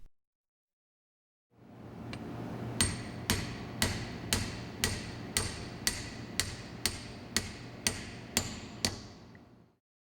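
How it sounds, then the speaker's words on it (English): Around a dozen sharp metallic taps strike at an even pace over a steady low hum, close by and fairly quiet, as an installation tool hammers a gasket onto a fuel injector nozzle tip. "use the gasket tip installation tool to hammer the gasket into place"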